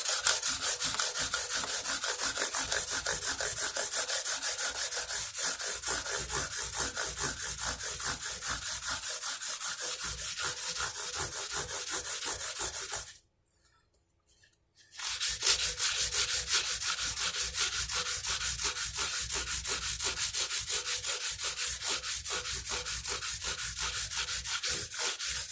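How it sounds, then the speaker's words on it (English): Guitar frets are sanded with a 220 grit abrasive pad on a block, giving a close, steady back-and-forth rasping rub that runs continuously, pauses briefly near the middle, then resumes. "Keep moving your block on the abrasive pad."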